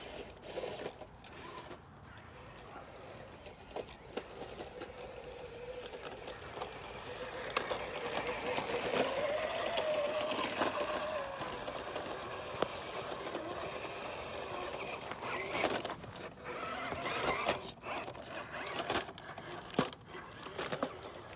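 A Hobby Plus CR-18P EVO RC crawler drives over terrain with a thin electric motor whine and gear chatter, swelling as it powers over obstacles, with scattered clicks and ticks and no voices.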